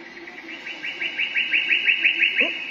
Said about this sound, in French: Voici un son de renard.